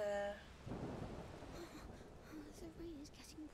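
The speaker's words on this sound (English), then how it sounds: "The rain is getting worse. It's just a storm." Heavy rain and rolling thunder in the video game A Plague Tale Requiem, a low rumbling burst over steady rainfall, with voices and faint game sounds above it.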